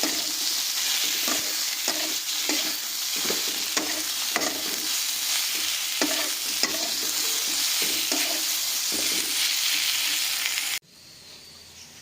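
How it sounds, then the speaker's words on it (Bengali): Mixed vegetables frying in a pan with a pinch of turmeric powder, stirred in repeated scraping strokes over a constant loud sizzle that cuts off abruptly near the end. "দিয়ে আর বেশ কিছুক্ষণ আরও ভাজা করে নিলাম সবজিটাকে"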